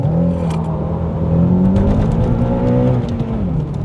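A Honda Accord CL9 with its intake resonator deleted idles high at about 3,000 RPM on two-step launch control, a loud, steady engine drone held close and constant with no talk.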